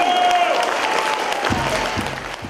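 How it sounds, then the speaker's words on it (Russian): An audience applauds at a multinational folk festival in Samara, a dense crowd clapping that fills the space, with a fading tonal note at the start and the clapping continuing steadily. "Бурными аплодисментами зрители провожали каждый номер"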